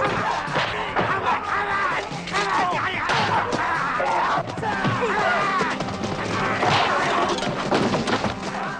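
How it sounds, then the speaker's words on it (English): Stylised movie sound effects of punches and kicks during a martial arts fight scene in Revenge of the Ninja: a dense, loud barrage of smacks, thwacks and crashing impacts in quick succession, mixed with music and scattered cries. "what is good here is the sound effects of the punches and kicks."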